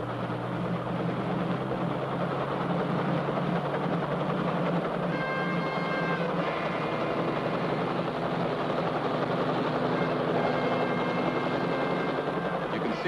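An air ambulance helicopter's engine drones loudly and steadily, with a whining rotor tone rising partway through as it powers up for takeoff.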